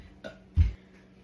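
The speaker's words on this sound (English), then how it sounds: "I can just make myself burp." A single short, deep burp, forced on purpose, comes close to the mic after a faint throaty sound, then quiet.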